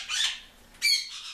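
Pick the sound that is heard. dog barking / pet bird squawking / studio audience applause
pet bird squawking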